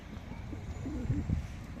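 Pigeons coo softly in a large coop, a few low, faint warbling calls near the end against quiet background murmur.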